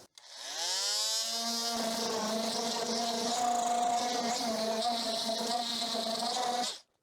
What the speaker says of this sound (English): We shall give it a quick sanding